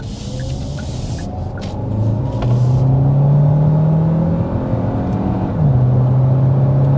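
A 2024 Hyundai Santa Fe Hybrid in Sport mode accelerates from inside the cabin. A low engine drone rises in pitch, steps through a shift, then climbs again under steady road rumble, with no voices.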